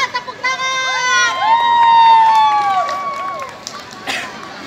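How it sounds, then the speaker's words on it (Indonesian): A crowd claps and cheers at a blindfolded marching contest, lively and sustained, while a man's drawn-out shout and other voices ring over the noise, which fades toward the end. "Ya, tepuk tangan."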